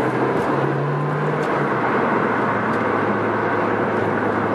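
A Ferrari 458 Speciale engine running heard from inside with the window up, a steady loud broadband roar with a low hum and a brief higher tone early on.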